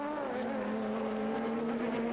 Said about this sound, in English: Slips inside the Coca-Cola Porsche.